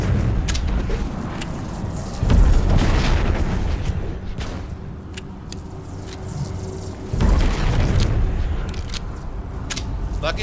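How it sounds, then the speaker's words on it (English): Flashbang blasts in a video game, two loud booming bursts a few seconds apart over a rumbling background, with sharp crackling pops scattered between. "Why are we getting flashbanged?"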